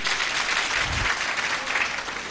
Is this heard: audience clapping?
yes